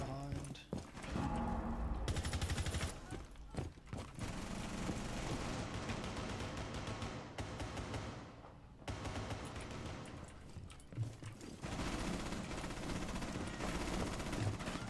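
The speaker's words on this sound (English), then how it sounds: "Being shot by people I can't even fucking see" Gunfire in the video game Rainbow Six, heard as dense, loud bursts of shots nearly throughout, dropping out briefly a few times, with a voice talking over parts of it.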